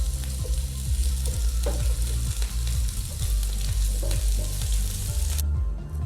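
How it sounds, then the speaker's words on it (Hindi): Chicken pieces frying hard on a high flame, a loud continuous sizzle with steady spatula stirring and scraping running throughout, close up and without any voices. "अब इसको तेज़ आंच पर फ्राई करेंगे, हल्की पर नहीं"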